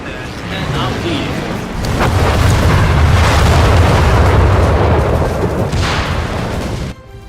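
Bombs dropped in a combat video game explode in a heavy, rumbling barrage that swells after a short lead-in and sustains loud, deep blasts for several seconds before cutting off abruptly.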